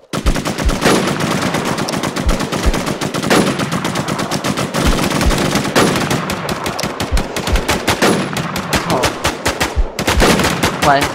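Automatic weapons fire in the video game Infestation, loud, close bursts of rapid machine-gun shots in long strings with brief pauses between volleys, the magazine emptied.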